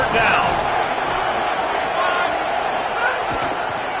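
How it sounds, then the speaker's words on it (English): Home crowd at an Indiana versus USC football game roars steadily on a third down as the defense tries to get off the field, a dense, sustained wash of cheering that stays loud throughout. "Here comes this home crowd as the defense tries to get off the field on 3rd down."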